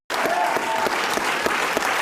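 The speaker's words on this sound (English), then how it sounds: "Oh, there's Cuomo clapping along." Studio audience at a political talk show breaking into applause, a thick, even burst of many people clapping that starts abruptly and holds steady, with a faint voice briefly audible under the crowd.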